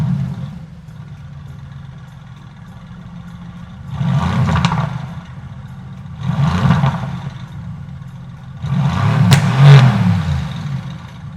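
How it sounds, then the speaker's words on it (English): Mercedes-AMG GT S with bi-turbo V8 and AMG Performance Exhaust revved three times from a low idle, each blip a loud, rumbling burst with crackle, close by. "This sound comes courtesy to the AMG Performance Exhaust System"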